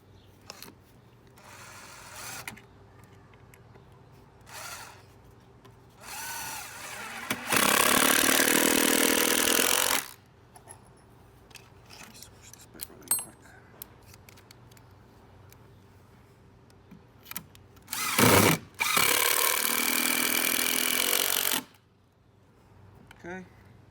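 A power tool drives bolts into a wooden 4x4 outdoor workbench in two loud, sustained bursts of a few seconds each, separated by quieter handling knocks and brief speech.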